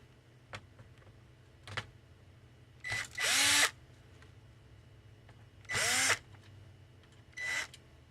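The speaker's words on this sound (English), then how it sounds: "And then on the side there are 2 screws here that need to be removed." A power screwdriver takes screws out of the hard drive of a Dell Inspiron One 19 all-in-one computer. It gives three close, loud whirring bursts of about half a second each, with a few small clicks between them and no talk.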